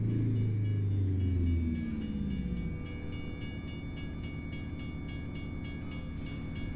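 A short train rumbles past a road crossing in the American Truck Simulator video game, with a horn blast at the start, then steady clattering wheels and a crossing bell dinging over the rolling noise.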